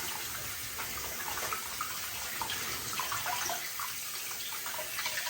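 Running faucet water splashing over hands being rinsed at a sink, a steady close gush with small shifting splashes throughout and no talking.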